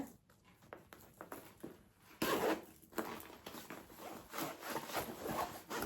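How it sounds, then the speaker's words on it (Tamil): Side zipper on a budget college bag drawn open or shut, giving a series of close rasping zips and rubbing strokes that grow louder partway through, with no talking. "இந்த பேக்கோட சைடில் உங்களுக்கு வந்து ஜிப் கொடுத்துருக்காங்க"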